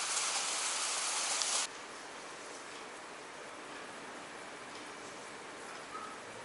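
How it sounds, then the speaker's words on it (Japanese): Heavy downpour at a guesthouse in Majuro, Marshall Islands: a dense, steady hiss of rain, loud at first and then settling to a slightly softer constant roar, with no voices. "すごい大雨でございます"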